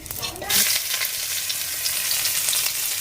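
Cumin seed tempering with a little sugar crackles in hot oil, a dense, steady sizzle that swells after a brief lead-in and holds close and loud throughout.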